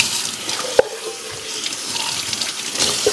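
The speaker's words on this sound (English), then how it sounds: "Let me give these a quick rinse." Running tap water over potatoes being rinsed in a kitchen sink, a steady soft splashing stream with a couple of sharp clinks from the potatoes or the sink, close and alone.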